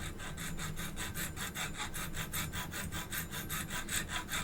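Steady rhythmic filing on a watch stem held on rollers, a metal file rasping back and forth in fast, even strokes, close and continuous with no talk.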